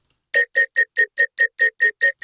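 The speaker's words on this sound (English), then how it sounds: "Vocoder again to change the way it sounds." A vocoded synth plays ten short, evenly spaced robotic stabs, bright and buzzy with a voice-like formant, after a brief silence.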